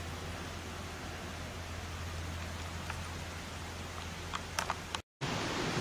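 Rain falls on a wet day along the Iron Goat Trail near Wellington, a steady, even hiss of drops that holds throughout, with a few faint crackles toward the end and a brief dropout near the close.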